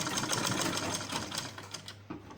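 A sewing machine runs steadily, stitching Ankara fabric for a smocked tube crop top with a rapid, even mechanical chatter that eases off near the end.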